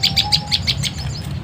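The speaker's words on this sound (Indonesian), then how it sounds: "sikatannya masih bunyi-bunyi di situ" A released flycatcher chirps in a quick series of bright, sharp tweets, about ten evenly paced notes close by, over a low background rumble with a faint steady tone.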